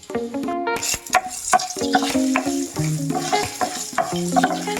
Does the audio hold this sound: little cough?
no